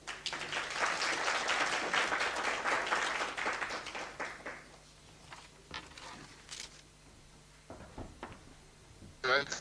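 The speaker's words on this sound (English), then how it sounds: "I ask that we give him a warm round of applause as he delivers his keynote address" Warm applause rises for a keynote speaker at a research seminar, loud for several seconds before thinning out around the midpoint, leaving scattered faint sounds and a brief burst near the end.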